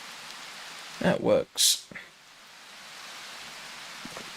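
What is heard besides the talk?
rain falling outdoors during a hike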